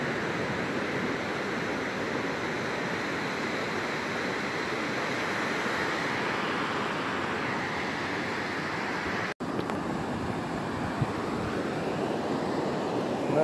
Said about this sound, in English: enjoy the sounds of it, the waves.